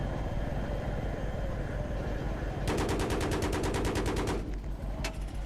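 Rapid helicopter machine-gun fire in the video game Battlefield 3 rattles out in a dense burst of about twenty rounds over a steady engine and rotor drone, then one more shot after a pause.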